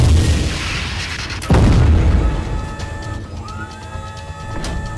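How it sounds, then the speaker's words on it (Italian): Cannon firing in the mech video game Dual Gear, a single loud boom with a sharp blast and lingering rumble, followed by fainter game effects and a second softer thud. "Adesso io qua l'ho usato un po' troppe volte sto cannone"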